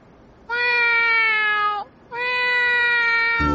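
A voice imitates a cat's meow in an animated horror series, giving two long, sustained, clear meows separated by a short pause, loud and close with no other talk.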